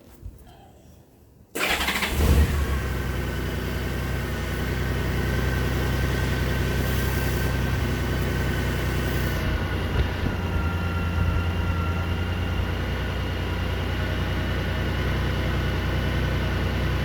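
Honda GL1800 Gold Wing motorcycle engine, a project bike, cranks briefly and fires up, then settles into a steady, loud idle that runs on evenly, no talk.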